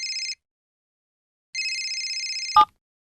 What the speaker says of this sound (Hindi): सिंह साहब का फोन है।